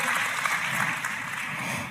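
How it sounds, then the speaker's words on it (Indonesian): Steady, dense clapping from a crowd, sustained and fairly loud throughout with no voices breaking through. "kalau mau tepuk tangan yang paling meriah"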